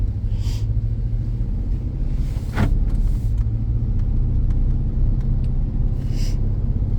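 A 2015 Ram 3500 pickup truck driving along, with a steady low engine and road rumble heard from inside the cab and a few faint clicks and thumps over it.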